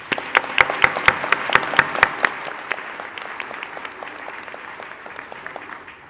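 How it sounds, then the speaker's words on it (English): Applause from a commencement audience honoring graduates, opening with sharp, distinct claps that swell into a sustained wash of clapping before gradually thinning and fading. "can we please have a round of applause for our graduates?"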